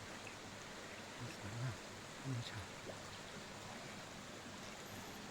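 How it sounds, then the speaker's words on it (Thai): A natural forest canal stream flows over rocks, giving a soft, steady, even rushing wash throughout, with a voice speaking briefly over it. "เดินป่าชมคลองน้ำไหลธรรมชาติ"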